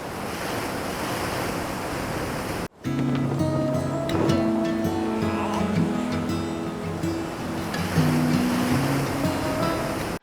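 Ocean waves breaking on a beach: steady broadband surf wash, then after a brief cut a fuller roar with layered tonal sounds mixed over it, loud and continuous throughout.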